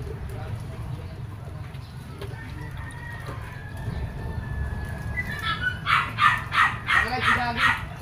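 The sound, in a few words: dog barking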